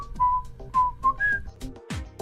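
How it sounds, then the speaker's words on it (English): A person whistles a short tune alone: several clear, sustained notes with brief gaps, the last note pitched higher than the others. "whistle a tune"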